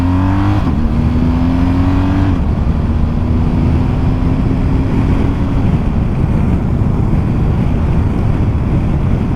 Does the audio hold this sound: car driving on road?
yes